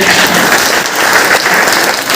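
A large crowd at a DXN business meeting in Basti gives loud, sustained applause for the company CEO, a thick, continuous roar of clapping with no pauses.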